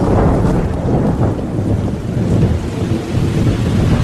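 Heavy rain pours in a loud, steady roar with deep rumbling thunder and gusting wind beneath it, close and continuous.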